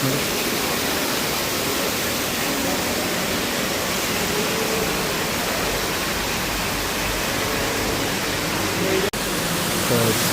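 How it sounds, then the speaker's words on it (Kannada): Waterfall at a park in Bangalore, a steady, dense rushing roar of falling water that fills the scene at close range without letup, with a brief click near the end. "ಫಾಲ್ಸ್ ಇದೆ."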